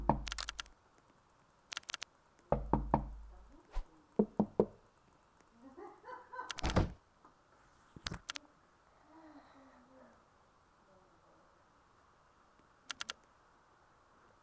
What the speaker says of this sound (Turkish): Hadi kapıyı tıklatsın.